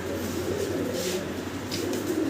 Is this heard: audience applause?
no